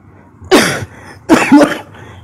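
Two harsh, close coughs about a second apart, each a short loud burst, in a quiet room with no talking.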